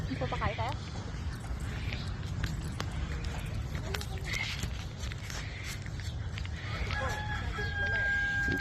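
Black chickens cluck and a rooster crows outdoors on a farm, the fowl calls mid-distance over constant rural background noise, with people talking nearby.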